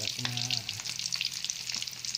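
Fish (dalagang bukid and boneless bangus) frying in a pan for a Filipino breakfast, giving a close, steady sizzle and crackle throughout with no talking.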